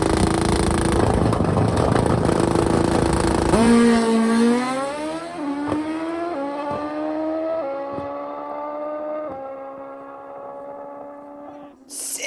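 A nitrous-fed Pro Street drag racing motorcycle on a street tire roars loudly at full throttle, then climbs through several rising gear changes as it pulls away and fades into the distance.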